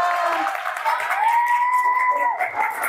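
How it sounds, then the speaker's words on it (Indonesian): Children clapping for a classmate in a classroom, a steady patter of applause under a woman's drawn-out, sustained voice. "tepuk tangan dong buat Rama."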